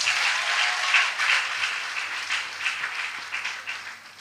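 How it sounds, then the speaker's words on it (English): Applause from a graduating audience of nursing students fills the hall, a broad continuous clatter of many hands clapping, steady and fairly loud, slowly thinning toward the end. "Give yourself a round of applause."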